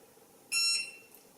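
A single short electronic beep from a gel nail lamp, high-pitched and clear, sounds once against a quiet background hum.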